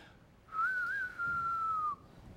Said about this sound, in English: It's not a very good whistle.